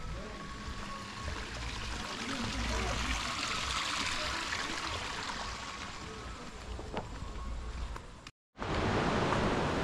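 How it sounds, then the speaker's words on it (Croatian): A small stream flowing near Tibumana Waterfall in Ubud, Bali, a continuous broad rushing wash of water at steady loudness, briefly cut by a sudden silent gap before resuming just as strongly. "Vidimo ispred rječicu"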